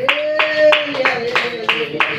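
A church congregation clapping in praise, about seven strong, fairly even claps over a sustained voice or tone.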